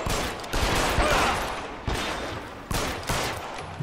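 Gunfire in the video game L.A. Noire, a loud, dense fusillade of overlapping shots with sharp bursts landing roughly every second through a continuous crackling barrage.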